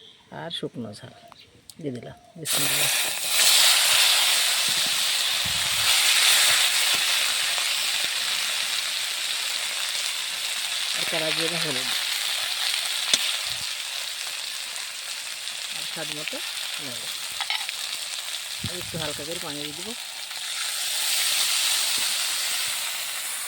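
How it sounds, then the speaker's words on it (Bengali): Fish curry paste of ginger, garlic, onion, white mustard and cumin sizzles in oil with a steady, loud hiss for most of the stretch while someone speaks at intervals. "আর একটু তেল দিয়ে দিলাম আজ মাছে তেল ঝোল হবে এতে আছে আদা বাটা রসুন বাটা পেঁয়াজ বাটা"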